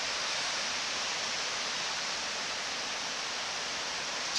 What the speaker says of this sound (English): So you can hear the first of the waterfalls.